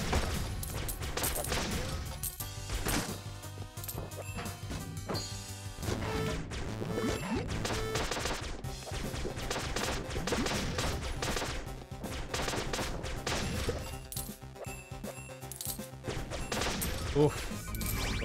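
Rapid gunfire bursts and explosive crashes from enemy bullets and rockets in the pixel-art action game Flinthook, dense and continuous over busy game music for the whole stretch.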